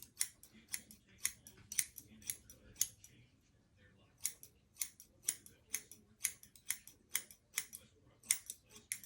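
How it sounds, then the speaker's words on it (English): Sharp scissors snip through a man's hair in quick, close clusters of crisp cuts, pausing briefly midway before resuming the rhythmic snipping. "you need a good pair of scissors, that cuts really good"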